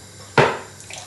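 Water poured from a jug into a bowl of corn flour while making a thickening agent for Mongolian beef, one short close splash that swells quickly and tails off within about half a second.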